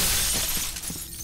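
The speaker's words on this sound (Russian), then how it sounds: "На стекло наступлю." Glass shatters and crunches underfoot in the shooter game F.E.A.R. Extraction Point, a short, bright, noisy burst that trails off over about a second, with no talking.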